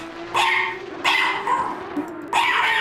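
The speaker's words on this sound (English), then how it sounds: "Oops, you probably hear my dog." A dog barks indoors in three sharp, loud bursts spaced about a second apart, close by over a faint steady hum, with no talking.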